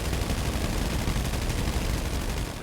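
Dense gunfire in a GTA NoPixel roleplay shootout, a continuous rattle of rapid shots that stays loud and steady throughout with no pauses.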